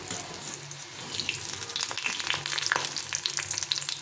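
Pea pakoras and a green chili fry in a pan of hot oil, giving a close, continuous crackling sizzle with sharp pops and some stirring noise.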